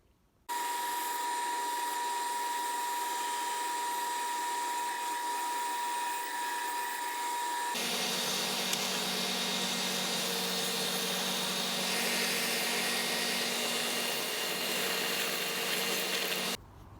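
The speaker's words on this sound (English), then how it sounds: "Gonna take and run an 1/8 inch round over all the edges real quick with the trim router." A trim router runs an 1/8 inch round-over bit along the edges of a wooden bracket, a steady high-pitched whine that shifts to a deeper, rougher tone once the bit bites into the wood, then stops abruptly; close, with no talk.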